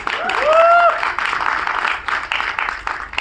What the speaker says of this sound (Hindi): तब तक तालियां मारो